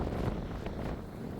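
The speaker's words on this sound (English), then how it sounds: "So sorry it's so windy" Strong wind at Wainuiomata Beach buffets the microphone, making a loud, continuous roaring rumble with no voices over it.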